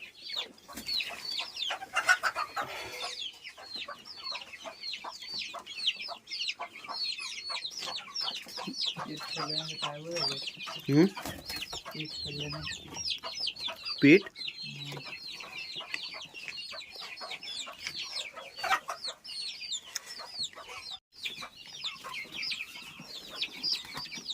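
Many chickens cluck and chirp continuously, a dense flock chorus close by with occasional louder squawks.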